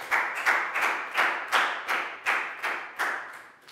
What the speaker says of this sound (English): a big round of applause for Net, guys